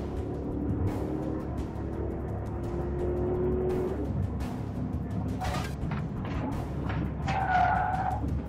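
A stolen police patrol car races at high speed in a pursuit, its tires squealing in a long skid as the engine roars. Sharp clatters and bumps follow near the end.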